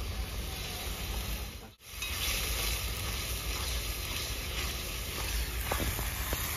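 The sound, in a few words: frying tomato and ginger garlic paste for fish curry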